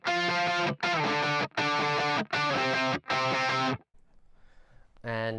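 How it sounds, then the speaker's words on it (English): Distorted second electric guitar chops a rhythmic octave part for the verse of a song, five loud clipped bursts in a steady pulse, a short pause, then another strum starting. "the second guitar is doing some choppy octave part over that"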